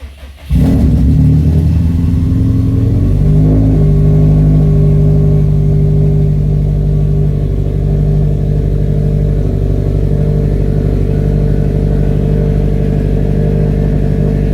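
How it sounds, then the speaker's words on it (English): A Subaru STI's engine roars to life after a moment of quiet, then revs loudly and settles into a steady, heavy rumble. "we're going to start this car up, which is pretty darn loud"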